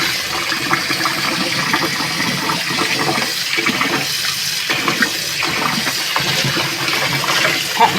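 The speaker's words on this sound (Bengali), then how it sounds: "যতক্ষণ ফেনা বেরোবে ততক্ষণ এরকম করে ধুয়ে যাবে।" Water running steadily over pressure-cooked soybeans as they are rinsed of foam, a continuous loud gush and splash with slight shifts in flow and no speech.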